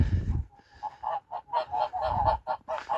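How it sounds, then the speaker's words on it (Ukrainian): Two young geese honk in a quick series of nasal calls, fairly close and alone, following a short low rumble at the start. "Цих дві молоді гусочки"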